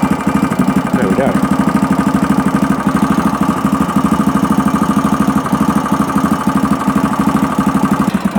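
A Yamaha XTZ660 single-cylinder motorcycle engine, freshly serviced with new oil, idles loud and close on choke, a steady rapid thumping pulse throughout.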